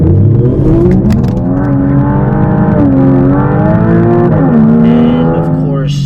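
Porsche Cayman 981 with a straight-pipe exhaust accelerating hard, a loud, raspy engine note climbing through the revs, easing at a shift and climbing again, heard close from inside the car.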